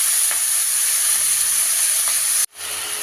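Spring onions hit hot oil in a wok and give a loud, steady, bright sizzle that cuts out for a moment near the end before resuming, with no talk.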